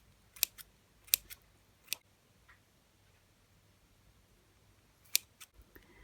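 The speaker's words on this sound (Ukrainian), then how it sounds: "Аурикулярію зручніше нарізати саме ножицями." Scissors snip wood ear (auricularia) mushrooms in a few sharp, close clicks, three quick cuts, a pause, then one more snip with faint rustling after.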